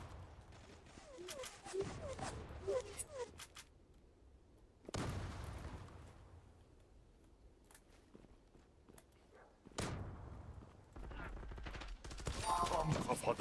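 Bursts of gunfire from the online shooter game Zula, with sharp shot clusters and a few heavier booms spread across the stretch, heard between quieter gaps with faint background game noise.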